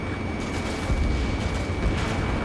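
Artillery fire rumbles in a combat flight game, a dense, continuous low roar with muffled booms blending into steady background noise, no distinct isolated blasts.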